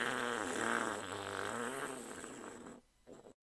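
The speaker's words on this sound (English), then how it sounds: "Cancel the fart, because I have proof it was the fart." A long, low, fluttering fart rumbles close to the mic for a few seconds, wavering in pitch before tapering off into silence.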